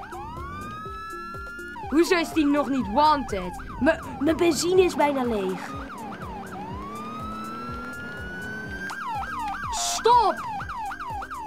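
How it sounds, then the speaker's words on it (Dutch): A police car siren wails in the Roblox game Emergency Response: Liberty County, cycling through rising and falling yelp patterns almost continuously, loud and close, while a player talks over it. "Ik zet gewoon de sirenes aan."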